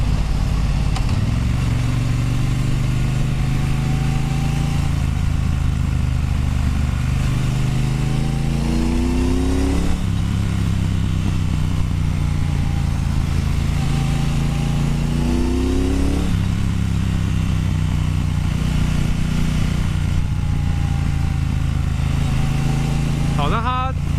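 A Triumph Bonneville Bobber with its 1200 twin engine being ridden, a loud steady exhaust drone rising and falling through several gear changes, someone talking over it throughout.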